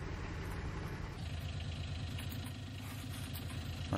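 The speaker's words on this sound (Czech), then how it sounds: "je to nepříjemný zvuk toho motoru neustále" A tractor engine in the video game Farming Simulator 19 idles and chugs steadily, a low rhythmic rumble that holds at an even level throughout.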